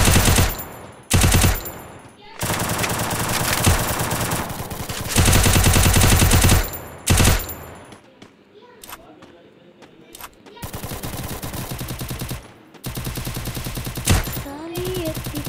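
Gunfire in Garena Free Fire during a ranked match, loud bursts of rapid automatic fire broken by short pauses, with a quieter stretch of scattered shots and game sounds in the middle.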